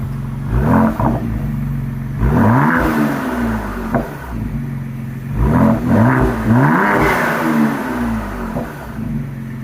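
A Ford Explorer ST with a Thermal R&D 3-inch exhaust, started from cold, revs in several sharp blips that rise and fall over a steady deep idle rumble, loud and close.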